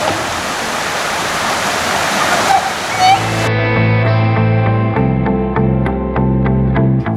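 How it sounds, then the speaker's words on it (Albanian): The River Cem rushes through the green Tamara valley in Albania with a steady broadband wash for about three seconds, then music with sustained tones and regular beats takes over. "Zhurma lehtë e lumit"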